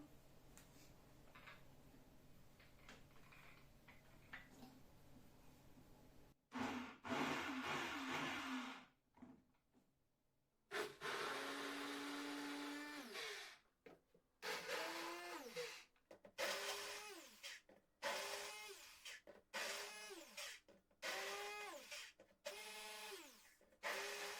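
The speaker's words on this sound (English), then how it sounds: "Now we mash up our berries, fresh or defrosted, with a hand blender." A hand blender mashes fresh or defrosted berries in a beaker for homemade jam, the motor whirring in repeated bursts that rise and fall with short pauses between, loud and close with no talk.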